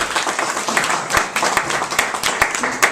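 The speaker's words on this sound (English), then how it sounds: "got a clap for me too" An audience at a talk in Athens, Georgia, applauds in welcome, with sustained clapping and a few sharper individual claps standing out, with some voices mixed in.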